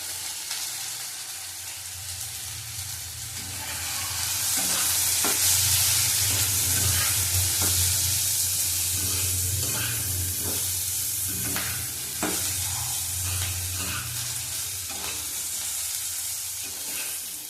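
Potatoes with salt and turmeric sizzle in a pan, a steady frying hiss that swells midway, broken by the scrape and clatter of stirring.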